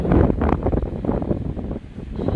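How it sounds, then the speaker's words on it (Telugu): Heavy wind blusters loudly against the microphone in a continuous low roar in an open farm field, with no talking. "గాలి బాగా పెడుతుంది ఇక్కడ"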